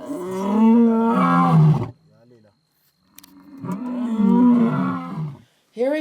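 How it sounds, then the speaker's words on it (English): A male lion on an African safari roars from just a few feet away, two long, deep, powerful roars separated by a short pause, with a brief grunt and breaths between them. "Hearing lions roar from just a few feet away is extraordinary."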